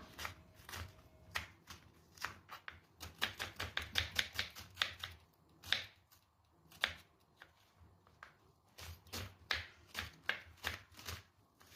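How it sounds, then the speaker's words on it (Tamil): Two onions being finely chopped with a knife on a home kitchen board, heard as quick irregular bursts of sharp, close cuts separated by brief pauses. "இப்போ ரெண்டு வெங்காயத்தையும் நல்லா பொடியாக கட் பண்ணியாச்சு"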